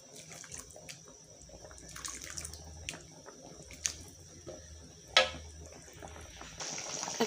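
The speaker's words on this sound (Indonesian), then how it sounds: "ini udah mendidih, ini udah jadi ya" A pot of tauco soup with short mackerel bubbles on the stove: soft, steady burbling with a few sharper pops, faint and close, with no voices.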